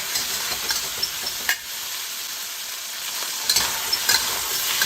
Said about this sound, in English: Now we're going to give the beef a quick stir fry.